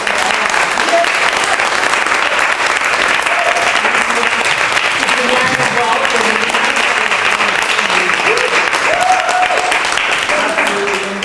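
A large audience claps for a sustained stretch, a dense steady roar of applause filling the room without breaks.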